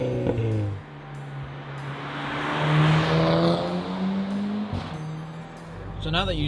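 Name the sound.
MTM tuned VW Golf 6R exhaust from outside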